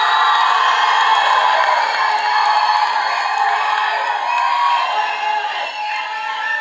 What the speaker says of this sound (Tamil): சந்தானம் அவர்களே ஒரு பெரிய கைத்தட்டலோட